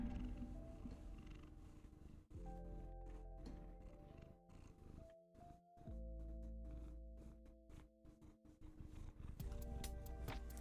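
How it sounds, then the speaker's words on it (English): A pet cat purring close to a microphone indoors, a low rumbling purr that pulses steadily with some thumps of rubbing against the mic. "I don't know if you can hear him purring."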